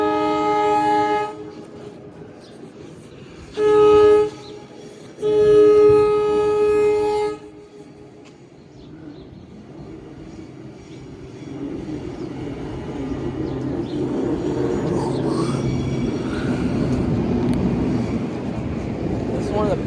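Train at Princeton Junction station, horn blasts sounding at the start, then a low rumbling approach that swells and stays loud near the platform.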